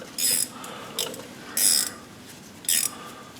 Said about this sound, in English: let's see if I can get a ratchet head on it